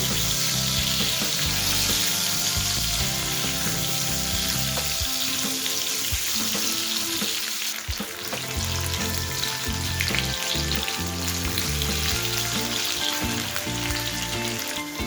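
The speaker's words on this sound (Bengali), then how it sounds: "আমি প্রথমে আলুগুলোকে দিয়ে দেবো। আলুগুলোকে সামান্য একটুখানি ভেজে নেব।" Potatoes frying in a pan with kalo jeera, a steady dense sizzle running loud and continuous throughout, with no talking.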